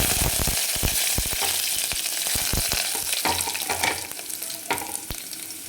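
Curry leaves and fresh green chillies fry in hot oil, a loud, dense sizzle with crackling pops and some stirring, close by and without speech.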